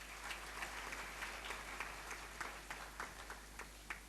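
Audience applause at a formal Pakistani ceremony honouring a woman's services, a steady wash of many hands clapping with a few sharper individual claps standing out, moderately distant and without talk.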